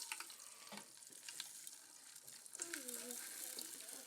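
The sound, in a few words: Pop Rocks reacting in Coke, fizzing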